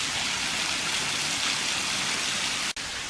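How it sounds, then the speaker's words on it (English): A waterfall in Bankhead National Forest, Alabama, roars as a dense, steady rush of falling water, loud and close, with a brief dropout near the end. "Safe to say this is waterfall number 2."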